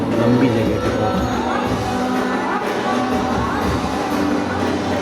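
Loud, dense crowd noise at a large Navratri garba gathering: a steady wash of many voices, shouts and cheers blending together without a pause, with music-like tones faintly woven through it.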